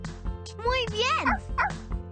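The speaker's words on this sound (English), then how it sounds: "Let's get that puppy." A cartoon puppy yips and barks in a Dora children's video game, a few high, excited barks close up mixed with speech and game sounds.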